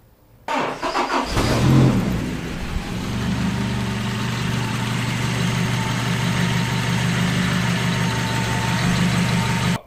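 Diesel car engine in an oil flush starts up and settles into a steady, loud idle with a constant low rumble and faint knock, running alone without talk for the rest of the stretch.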